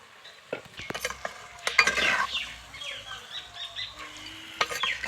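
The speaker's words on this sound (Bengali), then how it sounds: "খুব ভালো করে এটাকে নাড়াচাড়া করে নেব" Chicken being stirred in a clay pot, a utensil clattering and scraping in irregular bursts over a soft frying sizzle, close by, with no talking.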